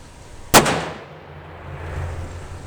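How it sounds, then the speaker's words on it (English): A Smith & Wesson 500 Magnum revolver fires a single 500-grain round: one sharp, loud, close blast followed by a short fading tail and quiet outdoor background. "Let's try one of the 500 grain and see the difference in the recoil."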